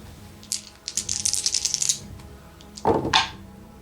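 Three dice rattling and tumbling across a table during a Beastgrave tabletop game, a clattering roll followed by a pause and then a second short rattle as they settle.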